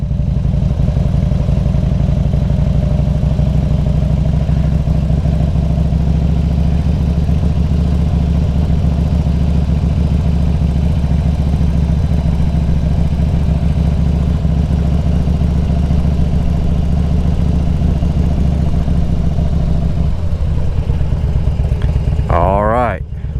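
A motorcycle engine runs steadily and loud while a rider takes a wide right turn and then slows to a stop, the motor settling toward idle near the end, with a brief clatter as the ride ends.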